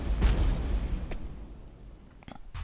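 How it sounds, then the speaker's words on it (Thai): A bomb goes off in the Lode Runner mobile game with a muffled, rumbling boom that fades out, followed by a few small clicky game effects. "นี่ระเบิดระเบิด"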